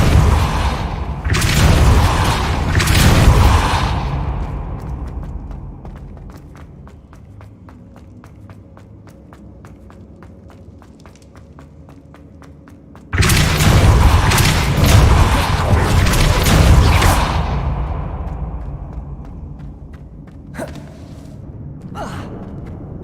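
Depulso spell impacts in the Hogwarts Legacy video game land as heavy booming bursts with whooshing, rumbling tails. Two loud blasts come early, then a quieter stretch of game ambience before another big surge returns.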